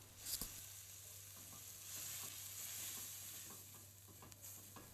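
A spoon scrapes and stirs chana masala in a hot pan while a soft sizzle of frying continues underneath, close and steady with occasional clinks.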